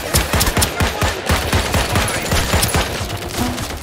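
Rapid turret gunfire in a video game, dense automatic bursts rattling loudly and close for a few seconds with no talk.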